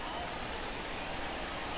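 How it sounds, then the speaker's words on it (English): Steady rain pours down in the MLB The Show 20 baseball video game, a dense, even hiss that fills the whole moment without any breaks. "the rain starting to intensify here. It's coming down a little heavier now"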